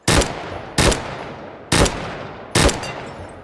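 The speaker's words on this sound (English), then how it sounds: "A 3-round hyperburst, where all 3 bullets leave the barrel before the recoil impulse actually hits us." Four 3-round hyperburst shots from a futuristic rifle in the VR shooter H3VR. Each burst lands as a single loud, sharp crack with a short decaying tail, spaced about a second apart, with no voices.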